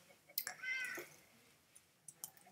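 A cat in the video game Minecraft meows, giving a few short, quiet cries with brief gaps and soft clicks between them.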